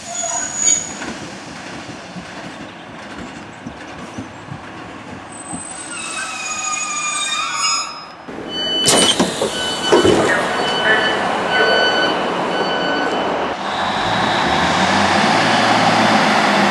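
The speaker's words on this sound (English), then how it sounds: "we're now leaving Howden Station on the next train to Selby" A train pulls out of Howden station towards Selby, with a loud, close rumble of rolling carriages, high squealing wheels and rising rail noise as it picks up speed.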